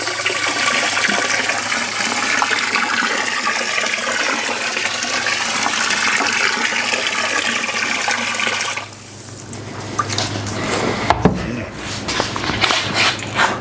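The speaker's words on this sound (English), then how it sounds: "I'm going to add a little water just to agitate this a bit and stir it up" Water pours into a container of produce-farm sanitizer and is stirred, making a steady rushing splash that runs for several seconds, then gives way to quieter sloshing and knocking of the stirring.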